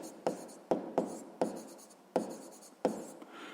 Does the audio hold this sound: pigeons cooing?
no